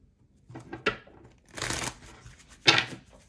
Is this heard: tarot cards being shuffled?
yes